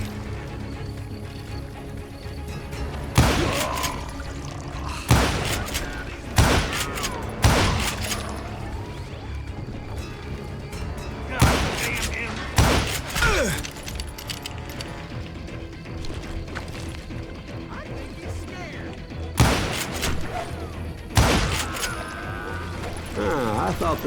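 Gunfire from the cowboy shooter game Call of Juarez: Gunslinger: loud, sharp shots ring out in scattered bursts and single blasts throughout, mixed with game sounds and people talking.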